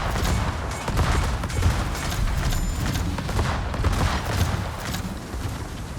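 Rapid high-explosive shell gunfire from the German cruiser Prinz Adalbert in the naval game World of Warships, a dense, continuous barrage of booming salvos that stays loud and busy throughout with no talk.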